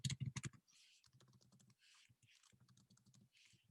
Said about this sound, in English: I'm just typing upper and lower limit for me to remind myself what I'm asking it to compute